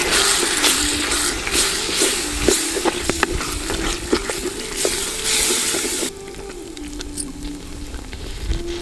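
Yogurt goes into a frying tomato masala in a clay pot for mutton biryani, and loud sizzling and bubbling fill the first six seconds with stirring scrapes and clicks before the sizzle drops to a quieter simmer.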